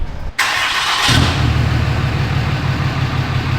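A Ram Cummins pickup's diesel engine cranks briefly, catches and settles into a loud, steady idle close by, with no voices.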